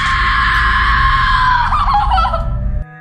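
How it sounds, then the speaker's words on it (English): A woman's long, loud, sustained shriek of terror in a horror story, high and piercing, breaking off abruptly near the end. "Emma gets so terrified, she screams."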